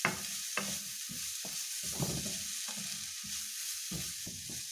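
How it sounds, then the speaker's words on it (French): Carrots and onions with garlic sauté in a pan for samosa filling, a soft background sizzle broken by repeated spatula stirs and scrapes at a quiet, close level. "on va faire revenir les carottes et les oignons"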